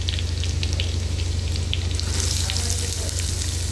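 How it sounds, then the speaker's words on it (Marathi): Finely chopped onion added to hot oil with ginger and garlic, frying for an egg curry. A steady, loud sizzle holds throughout and grows slightly brighter toward the end. "कांदा व्यवस्थित तेलामध्ये परतून घ्यायचा आहे"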